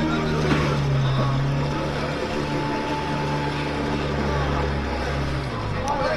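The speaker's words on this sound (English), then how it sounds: "Portuguese style boats coming in, but they are todo motor, right? They're using an engine." Motorized Portuguese moliceiro boats chug past near the shore at Torreira, a steady low engine drone with water and wind noise, while people talk over it.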